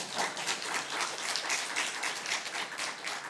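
A church congregation applauds, dense rapid clapping from many hands sustained evenly throughout, moderately distant with no voices over it.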